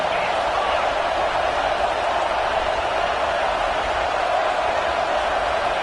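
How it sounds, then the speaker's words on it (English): Roaring football stadium crowd at a game, a dense, steady wash of cheering noise that stays loud throughout without breaks. "This crowd bringing the energy and noise early."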